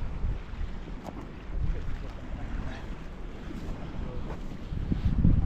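Steady wind buffeting at the coast during sea fishing at Brean Down, a continuous rushing roar on the microphone with low gusts swelling louder toward the end, no clear talk.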